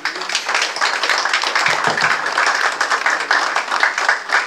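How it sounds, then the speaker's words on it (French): Congregation applauding in a church, energetic and continuous clapping that sounds close and full for the whole stretch. "On applaudit le Seigneur maintenant."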